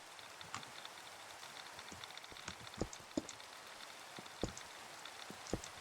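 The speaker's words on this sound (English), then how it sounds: "Hello, Rain." Rain falls in Minecraft as a soft, steady hiss with scattered individual drops ticking and plinking, fairly quiet and heard alone.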